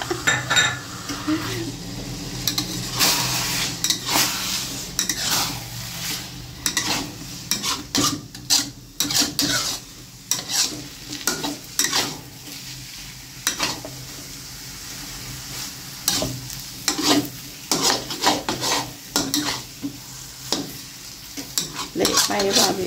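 Glass noodles with pork, egg and dark soy sauce are stir-fried in a pan: a metal utensil scrapes and clinks rhythmically against the pan over a steady sizzle, with frequent sharp knocks throughout.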